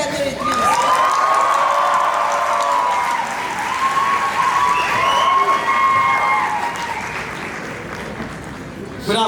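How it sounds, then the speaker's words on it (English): A graduation ceremony crowd gives a long, loud round of applause to welcome the secretary, with cheers and whoops rising through it. The applause stays strong throughout and eases slightly near the end. "With a huge round of applause, please welcome Sir Secretary Rubrics."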